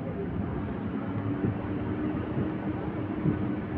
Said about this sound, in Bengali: তো আগমনী স্টেশন থেকে ট্রেন আমাদের ছেড়ে দিল